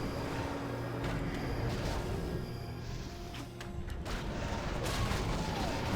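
Mortar Team Frag Charge attack in a strategy video game match, a steady dense rumble of explosive impacts and crashes beneath busy game ambience, moderately loud throughout.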